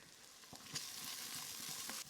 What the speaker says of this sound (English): you want to get a little bit of caramelization on the tomato paste